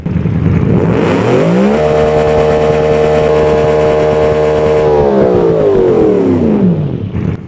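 A 1970s car engine in BeamNG Drive revving hard, a loud close drone that climbs in pitch, holds a steady high whine, then drops away as the throttle eases off.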